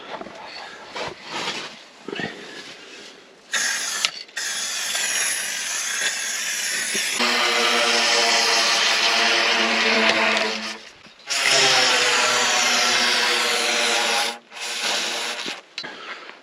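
Stone chip protection sprayed from a trigger spray gun onto a Land Rover Discovery 6x6 off-road wrecker, a loud continuous hissing spray in long bursts with brief pauses, no talking.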